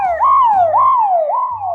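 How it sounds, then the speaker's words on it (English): Wailing ambulance or sheriff siren on a road, rising and falling in three loud, repeated sweeps as the vehicle heads past nearby, with a low engine hum underneath. "ambulance, I think might be sheriff"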